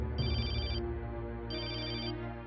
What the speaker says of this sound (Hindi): फोन की घंटी सुनाई नहीं देती?